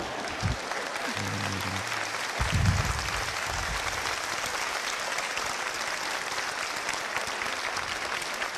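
Studio audience at a comedic quiz show clapping, a steady continuous round of applause with a brief low voice or hum near the start, holding an even level throughout.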